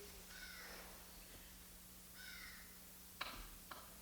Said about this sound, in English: Oh, these are crows, maybe baby crows.